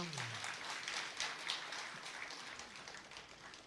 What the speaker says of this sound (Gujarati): ખાલી ચૂંટાયેલા બધા સભ્યો તાળી પાડે.